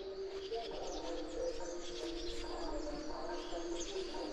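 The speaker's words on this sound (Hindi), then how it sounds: "पंछियों की चहचहाट की आवाज़ें आ रही हैं।" Birds chirp on a mountain farm in the morning, a busy overlapping chorus of high tweets and calls at moderate distance with a soft cooing undertone, steady and continuous with no voices.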